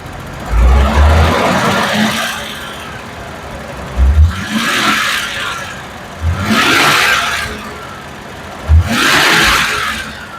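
A 1980s Ford ZL Fairlane with an EFI engine with a fuel pressure fault revs up three times from idle, each rise swelling loud and close, then falling back to a steady idle between bursts.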